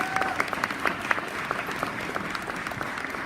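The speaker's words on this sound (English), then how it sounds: "Give them a round of applause." A crowd at a sober and safe driving campaign event applauds the fire department and EMS crews, with fairly quiet but steady clapping in which some individual sharp claps stand out.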